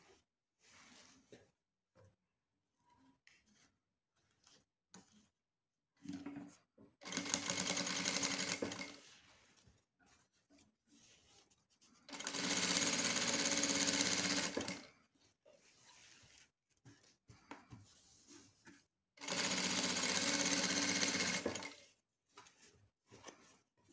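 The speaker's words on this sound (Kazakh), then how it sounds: "Және мына астыңғы қатарды тағы да тігіп шығамын." A sewing machine runs in three loud bursts of fast, even stitching along curtain tulle, each lasting a few seconds. Quiet pauses with small handling rustles and clicks fall between the bursts.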